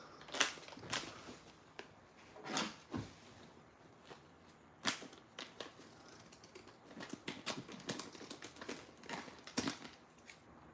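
Scissors snipping a plastic packet up close, a series of sharp irregular clicks and crinkles with quiet gaps between them.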